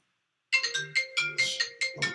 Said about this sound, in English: This woman been calling my phone all day.